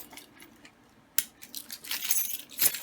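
Metal keys jangling and clinking in short bursts, with a sharp clink near the middle and brighter rattles toward the end, close to the microphone and fairly quiet, no voices.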